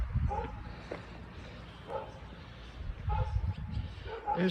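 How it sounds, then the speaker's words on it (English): An elderly dog barks excitedly in short, repeated yips and woofs from a little distance outdoors, interleaved with someone talking nearby. "He's getting excited. He looks a brave elderly dog."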